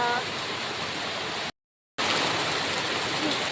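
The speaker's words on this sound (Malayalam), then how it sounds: "ഭയങ്കര മഴയും ഭയങ്കര കാറ്റും" Dense, steady rush of heavy monsoon-style rain with strong gusting wind, loud and continuous, broken by a brief moment of silence midway.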